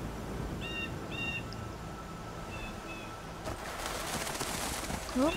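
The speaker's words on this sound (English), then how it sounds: "Oh, birds." Faint birds chirp in the Skyrim video game, two short paired calls early on and another pair a little later, distant over a steady ambient hiss that turns brighter and noisier in the second half.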